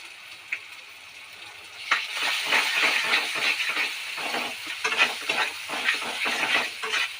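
Meat frying in a pan makes a bright hissing sizzle that swells after a quiet start, with rhythmic stirring scrapes running through it and no talk.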